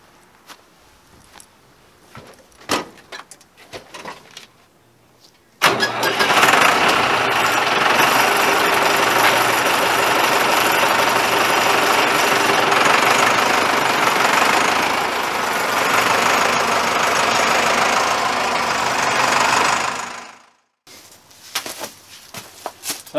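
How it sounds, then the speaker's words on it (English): A tractor engine runs steadily for about fifteen seconds, a broad rumbling roar that cuts off abruptly, with quieter rustling and footsteps before and after. "Always need an excuse to try out the tractor."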